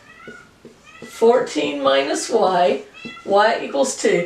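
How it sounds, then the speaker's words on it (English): A pet cat named Ruby meows repeatedly indoors, hollering to play fetch, loud short cries close by that overlap a voice talking. "If you hear a cat in the background"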